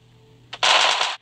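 Gunfire in the mobile battle royale game PUBG Mobile, with a single short shot followed by a sustained loud burst of automatic fire lasting about half a second, then abruptly stopping.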